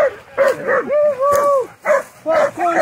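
A pack of hunting dogs during a wild boar hunt: loud, close bursts of high yelping barks and whining cries come in quick succession with short gaps.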